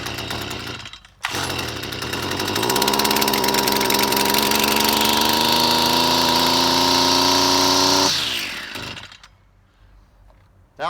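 A weedeater engine, just unflooded, catches and revs up, then runs loud and steady for several seconds at a high pitched buzz before cutting off and dropping to quiet.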